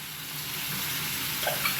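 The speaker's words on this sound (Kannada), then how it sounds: "ಇದನ್ನು ಆಯಿಲಲ್ಲಿ ನೀಟಾಗಿ ರೋಸ್ಟ್ ಮಾಡೋಣ." Chicken breast marinated in ginger garlic paste, salt and chili powder roasting in hot oil, a close, steady crackling sizzle with a few louder pops near the end and no talking.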